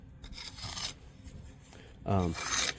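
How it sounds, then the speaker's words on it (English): Leftover material being scraped off a surface while building an underground tornado shelter, a short rasping scrape early on and a louder, harsher scrape near the end, nearby with quiet background between. "turn it sideways, scrape it off"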